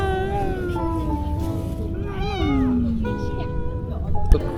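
A kitten meows repeatedly in rising and falling cries, close and clear over the background at a cat meetup in East Coast Park, Singapore, while people talk nearby.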